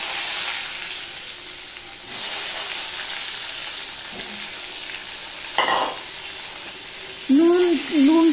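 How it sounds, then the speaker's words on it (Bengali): Long strips of eggplant fry in hot oil with a steady, close sizzle throughout, broken by a few louder bursts and scraping turns near the end. "বেগুনগুলো ভেজে নেব।"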